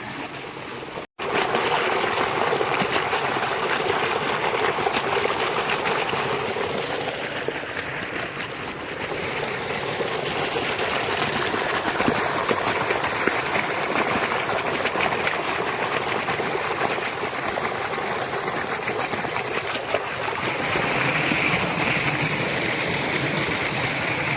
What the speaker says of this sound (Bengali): আমাদের হাত পা ধোয়া হয়ে গেল